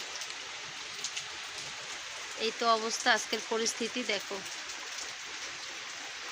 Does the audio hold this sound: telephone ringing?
no